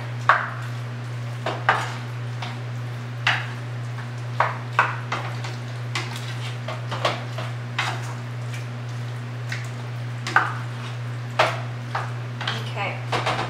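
A spoon stirs organic diced tomatoes into turkey picadillo in a pot, giving irregular scraping clinks and taps against the cookware over a steady low hum, with occasional brief speech.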